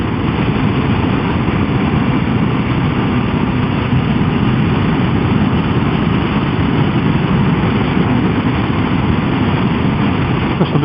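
Motorbike engine droning steadily while riding in fourth gear at about 40 mph, loud and close with constant wind rush and no break in the sound.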